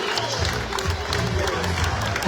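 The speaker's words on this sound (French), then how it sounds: "vous pouvez les applaudir" Audience applause at an Abrivados festival in Calvisson, clapping for children riding horses; a steady wash of crowd clapping and cheering runs throughout, with low rumbling noise underneath.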